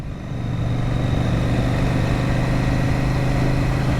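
A CF Moto 800 NK motorcycle being ridden in sport mode at low revs: a steady, loud engine drone with a strong low hum rises quickly after the start and stays even, with no talk over it.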